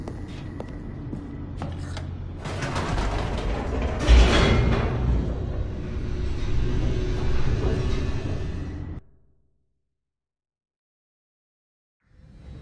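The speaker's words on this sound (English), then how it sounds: "The elevator raced downward" In the Stanley Parable on PS5, an elevator descends with a steady mechanical rumble that swells in the middle, holds, then cuts off into silence before a faint sound returns at the end.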